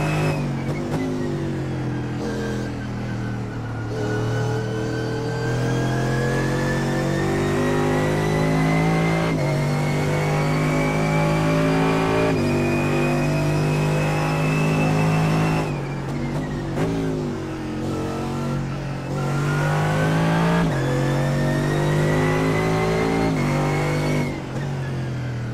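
A race car engine in the iRacing simulator, revving up and down repeatedly through gear changes and braking with a loud, continuous synthetic engine note.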